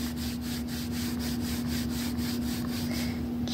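Fingers rub rhythmically over Sour Patch Kids Hearts candy packaging in close, steady ASMR strokes under a constant low hum, with no talking.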